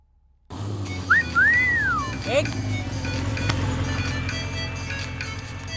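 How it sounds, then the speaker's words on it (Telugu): A short melodic electronic tone rises and falls, like a phone ringtone, over a steady low background hum. "ఎవరో ఫోన్ రా."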